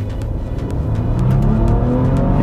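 A Maserati Levante SUV in sport mode revs up to around 2000 rpm, its engine a deep steady growl that swells louder over a couple of seconds, heard from inside the cabin without talk.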